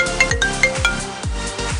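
A spare mobile phone rings with a repeating electronic ringtone melody, several quick tonal notes over a low rhythmic beat, fairly loud and close with no talking.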